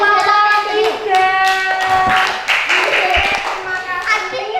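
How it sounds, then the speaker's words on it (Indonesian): Elementary schoolchildren in an Indonesian classroom clap their hands in a brisk, scattered round of applause, mixed with lively children's chatter and voices talking over it. "tepuk tangan untuk kelompok 3."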